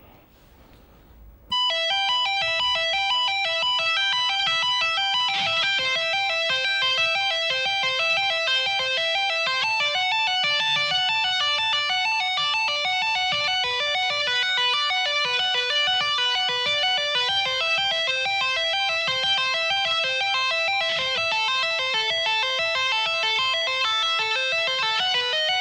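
An electric guitar plays single-string tapping arpeggios slowly, with distorted metal-style tone and a steady, even stream of tapped, hammered and pulled-off notes, loud and alone after a brief quiet start.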